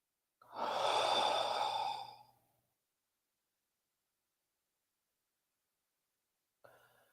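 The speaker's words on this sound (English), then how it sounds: "Just take a few deep breaths in this moment" One long, deep exhalation is heard close up, a breathy sigh lasting about two seconds, then silence and the start of another breath at the end.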